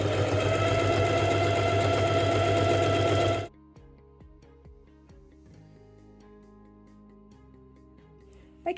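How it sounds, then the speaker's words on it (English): A sewing machine runs fast and loud for about three seconds, stitching quilting lines to attach batting to fabric, then stops abruptly, leaving faint background music. "I'm going to work my way along the entirety of the fabric, making sure that I'm stitching my beautiful batting piece to the back"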